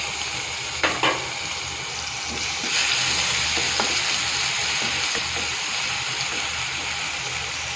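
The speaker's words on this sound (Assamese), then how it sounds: "মাছটো হাফ ফ্ৰাই কৰিম" Pieces of rohu fish half-fry in hot oil in a pan for a curry. A loud, steady sizzle and crackle runs throughout, with a few soft clinks from stirring.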